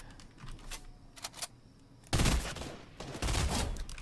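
Scattered gunshots crack from a distance, then a loud, sustained volley of rapid gunfire takes over during a Fortnite squad match firefight.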